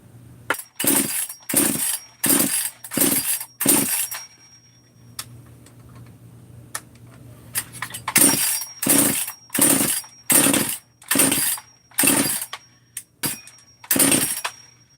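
A 262 chainsaw engine with a muffler set to high idle, revving in loud, regular surging bursts that break off into a quiet, low idle hum partway through before the rhythmic surges resume, close and without speech.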